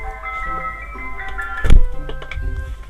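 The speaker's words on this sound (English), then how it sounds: "That was the ice cream truck." An ice cream truck outside an open window plays its jingle, a steady melodic tune with a bump near the middle, loud and close enough to fill the room.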